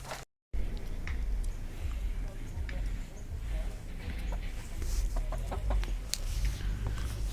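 Hens cluck in short, scattered calls amid a steady outdoor rumble at a poultry farm in Pauri, Uttarakhand, with a person talking faintly nearby.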